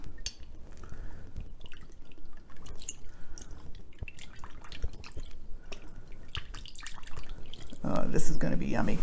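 Low sodium soy sauce poured into a slow cooker, a short wet trickle and splashing with a louder liquid burst near the end, under a voice talking.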